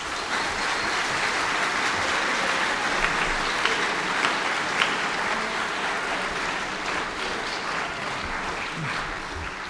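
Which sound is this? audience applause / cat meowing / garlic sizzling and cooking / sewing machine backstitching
audience applause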